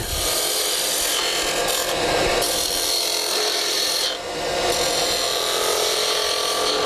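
Steady, close scraping and shaving as the toe of a skew chisel cuts a cove into spinning wood on a lathe, a continuous rasping hiss with slight shifts in pitch as the tool arcs across.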